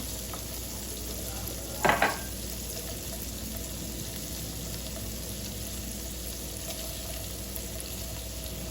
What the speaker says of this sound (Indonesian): Jadi kita tumis dulu mereka sampai matang sama wangi.